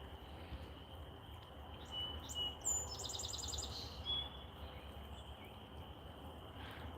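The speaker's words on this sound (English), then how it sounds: "That sounds like a pine warbler to me." A pine warbler sings a brief, high trill, faint and a little distant, over a steady insect-like drone and low background noise outdoors.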